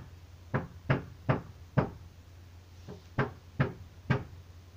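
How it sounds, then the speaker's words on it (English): Someone nearby knocks on a board, producing a series of eight sharp wooden thuds at a steady, slightly uneven pace, moderately faint and somewhat distant over a low background hum. "He must be knocking a board or something."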